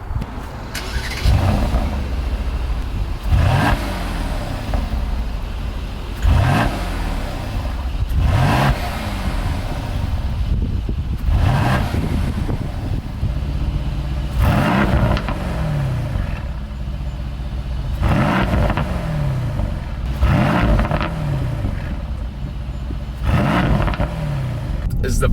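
A 503-horsepower bi-turbo V8 sedan fires up with its exhaust baffles open, then revs hard again and again through Comfort, Sport, Sport Plus and Race modes. Loud, close, repeated throttle blips rise and fall in a steady rhythm.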